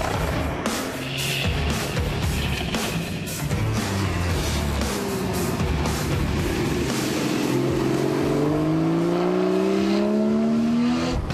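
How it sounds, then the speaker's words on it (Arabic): A Porsche Boxster Spyder sports car revving hard through its gears, the engine note rising with each pull and then dropping and climbing again as it shifts, loud and close and continuous with no talking. "يساعد المحرك في تأقلم سرعة الدوران مع الوضع الجديد للتروس، ما يضمن الانتقال إلى السرعة بسلاسة وبصوت مميز جداً"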